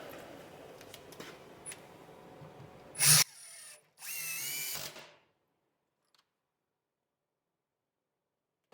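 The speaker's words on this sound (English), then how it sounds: "We're driving some harder than normal screws for this." A Metabo HPT 18V cordless impact driver drives large, hard screws, with a short sharp burst followed by a longer loud hammering run, then abrupt silence.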